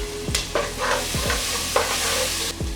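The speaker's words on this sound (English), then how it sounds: "Now we add the tomatoes." Tomatoes sizzling in a hot pan of breadfruit beef curry with turmeric, loud steady frying hiss under repeated scraping strokes of a spoon stirring against the pan, close up with no voices.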